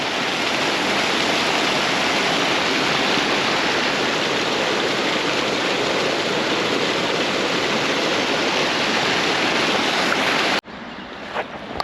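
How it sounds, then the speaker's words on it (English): Water pours steadily over a small dam on Nine Mile Creek, a loud, continuous broadband rush that stays unbroken for most of the stretch, then cuts abruptly to a quieter, thinner flow near the end. "A nice little dam here."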